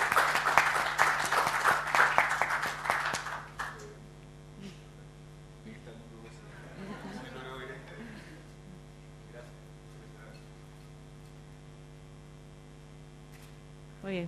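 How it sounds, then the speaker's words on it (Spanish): Audience applause for a prize winner at a business management talk, a dense burst of clapping for the first few seconds that cuts off abruptly, leaving a steady mains hum with faint murmuring. "le damos un aplauso al beneficiado"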